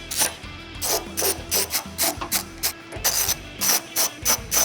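A ratchet clicks in quick repeated bursts with short pauses, close and distinct, as bumper beam bolts are loosened on a Jaguar F-Pace during trailer hitch installation.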